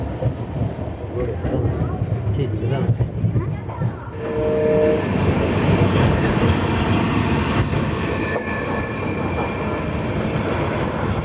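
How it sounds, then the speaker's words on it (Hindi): The Shirdi Mysuru Express approaching Gadag Junction, heard from on board: a loud, steady rumble of wheels and carriages on the rails, with a brief tonal horn-like note and rising clatter as the train rolls on. "अभी हमारी ट्रेन अप्रोच कर रही है गदग जंक्शन को"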